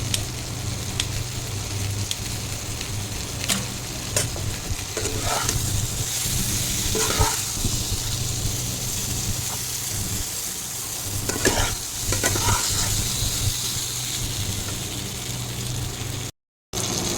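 Green chillies fry in a pan with a steady crackling sizzle, and stirring scrapes and knocks against the pan come and go at intervals. A brief gap of silence falls near the end.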